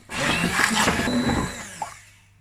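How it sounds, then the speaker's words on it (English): A handheld stick blender whirs steadily for about two seconds mixing coconut cream and sugar, a close, buzzing motor that winds down and stops. "I'm gonna just use my stick blender to whiz the coconut cream and sugar together"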